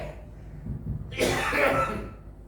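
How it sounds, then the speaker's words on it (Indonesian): A single harsh cough bursts out during a Sunday church service after a moment of low background noise, fairly close and loud, then fades. "saya ini nggak tahu batuk model apa"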